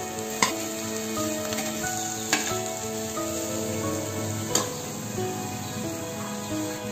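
Spring onion greens and peanuts drop into hot oil in a pan while cooking a Maharashtrian brinjal bharit, a steady close sizzle with a few sharp clinks of a spoon against the pan.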